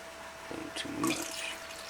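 Clean water poured into a gold pan while panning, a short splashing gush rising and fading over a couple of seconds, fairly quiet and close.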